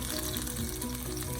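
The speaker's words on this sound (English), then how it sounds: "add it to the pan, and cook on low heat" Tomatoes sizzle in a pan over low heat, a steady, close crackling fry throughout the short stretch with no voices.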